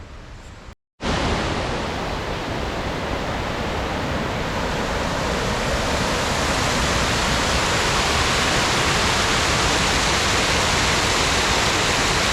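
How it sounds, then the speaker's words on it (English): Water pours over a weir on the River Wye beside an old mill, a loud, steady roar of rushing water that fills the whole stretch alone after a momentary cut at the start. "here we've got a weir dropping the water down a level for the River Wye to come around and down"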